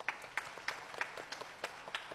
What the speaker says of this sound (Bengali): অমিতদার জন্য একটা জোরে হাততালি হতো